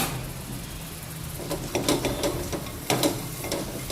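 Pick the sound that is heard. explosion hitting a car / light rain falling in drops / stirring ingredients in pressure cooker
stirring ingredients in pressure cooker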